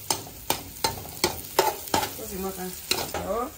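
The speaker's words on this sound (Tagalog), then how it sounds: "igisa ang sibuyas at bawang." Onion and garlic sautéing in a pan for carbonara, a soft sizzle broken by regular scraping stirs about every half second, close and fairly quiet, with no talk.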